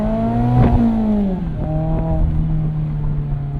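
A Mazda ND3 Miata's engine revs up and settles, its tone climbing and falling in a few throttle blips before holding a steady drone, loud and close from inside the car, no talk.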